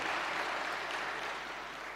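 Audience clapping at a Sadhguru talk, a dense, even wash of many hands applauding steadily for the whole stretch, fairly loud and tapering only slightly.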